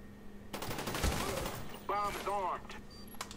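Gunfire from a Call of Duty Black Ops match, a rapid burst of shots fired close by, with another voice heard briefly during it.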